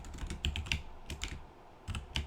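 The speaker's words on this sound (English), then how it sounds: "if I can get my typing going here" Typing on a computer keyboard while writing code, quick clusters of close, light key clicks with brief pauses between bursts, quiet and with no talking.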